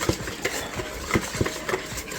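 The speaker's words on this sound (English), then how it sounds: "And let's whisk this up again." Crab cake mixture whisked in a bowl, a close run of quick, uneven tapping and scraping strokes with no voices.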